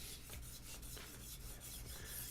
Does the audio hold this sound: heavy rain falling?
no